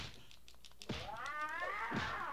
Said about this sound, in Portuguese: Olha isso, eu tô empurrando um gato feroz no chão.